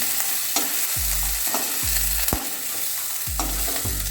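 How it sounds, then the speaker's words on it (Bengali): Steady crackling sizzle of shrimp frying in hot oil, with repeated deep booming swoops recurring roughly every second over it. "আমার চিংড়িগুলো প্রায় ভাজা হয়ে গেছে এবারে আমি এগুলো আস্তে করে তুলে নেব"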